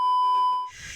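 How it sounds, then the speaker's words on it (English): A single electronic censor beep, loud and steady at one pitch for most of a second, dropping out at the end into faint background noise. "I know you should gotta beep her out."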